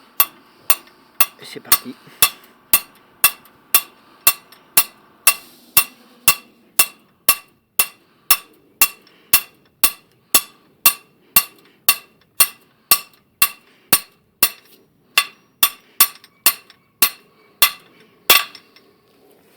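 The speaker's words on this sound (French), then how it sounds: "je prends le marteau, je tiens, pousser le tournevis pour pas que tout me glisse dans les mains" A hammer strikes a screwdriver to drive a pin into the axle of a tractor's automatic hitch, about thirty sharp metallic clinks in a steady, evenly spaced rhythm, close and loud. A brief voice is heard at the start.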